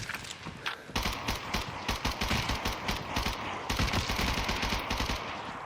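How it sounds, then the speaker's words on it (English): Rapid bursts of automatic gunfire in an extraction shooter video game crackle almost continuously, loud and close, with dense repeated shots layered over each other. "Other players must have heard the gunfire"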